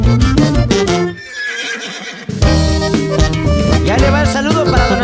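A horse neighs loudly over a Mexican corrido-style song for Día de Muertos, the whinny blending into the dense music of band instruments and voice.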